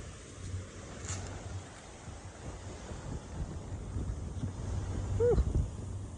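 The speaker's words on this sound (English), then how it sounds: "The wind's picking up." Wind gusting outdoors on a hill near the beach, a steady broad rush that slowly builds louder, with faint low rumbles and no talk.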